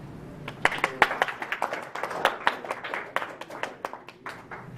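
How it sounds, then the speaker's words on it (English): A small audience at a youth court training session gives a speaker a round of applause, with sharp individual hand claps scattered unevenly and close by, fairly light and thinning toward the end. "Let's give him a round of applause."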